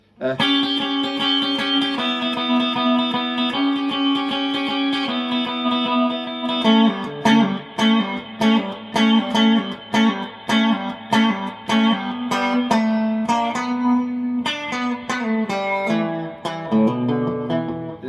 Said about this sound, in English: so let's move into the first guitar solo